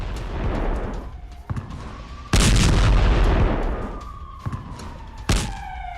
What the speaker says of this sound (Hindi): IDF के आर्टिलरी से गोले दागे हैं।